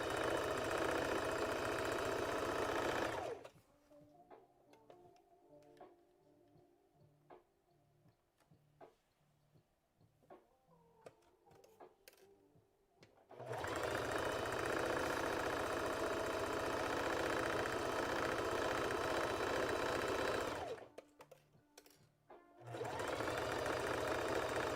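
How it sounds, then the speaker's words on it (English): A serger stitches fabric for a dress in two long, loud, even runs of rapid mechanical whirring. Between the runs is a quieter stretch of ticks and handling clicks while the machine is stopped. "I am backing it up with my serger"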